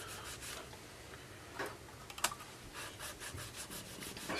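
Guitar frets on a Les Paul style electric guitar with an oiled poplar body being polished by hand, a soft, quiet rubbing that keeps going with a few light clicks and taps.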